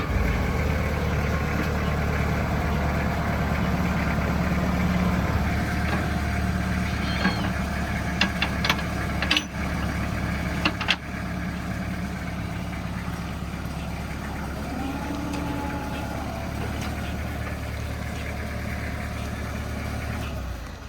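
A farm tractor engine idles with a steady low diesel rumble and knock close by, with a few clanks and rattles partway through and no talk.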